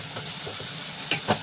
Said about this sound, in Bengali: এবার এটাকে আমি খুব ভালো করে ভাজবো, যতক্ষণ না কাঁচা গন্ধটা যাচ্ছে ততক্ষণ আমি এটাকে কষাবো।